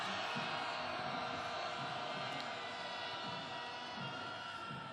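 A protest march crowd, gathered for a candlelight rally calling for impeachment, roars in a sustained wall of shouting and cheering that stays loud and dense throughout, with scattered voices rising out of the mass.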